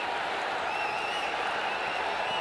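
Cricket stadium crowd at an India v Sri Lanka Asia Cup super over, a dense steady roar of cheering and applause filling the whole stretch at high level, no single voice standing out.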